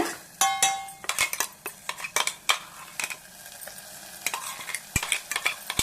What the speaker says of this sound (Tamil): பச்சடி போட்டு நல்லா ஒரு ஒரு அஞ்சு நிமிஷம் நல்லா இப்படி வதக்கணும்